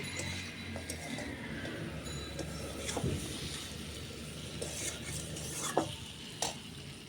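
Spices sizzle steadily as they are fried and stirred in a pan, with a few scraping stir strokes rising over the constant hiss, close and fairly loud, no voices.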